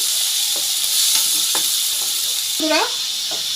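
Onions and spices sizzle in oil with a bright steady hiss, punctuated by several short scrapes and knocks of stirring against the pan.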